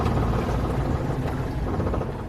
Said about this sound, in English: Here the propeller's still running.